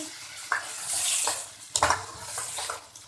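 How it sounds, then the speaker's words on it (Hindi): Black chickpeas roast with cumin in a pan, a low sizzle under several distinct scraping and clinking strokes of a spoon against the metal, close and uneven in rhythm, with no talking. "इसको खूब अच्छी तरीके से भूनेंगे छोलों को"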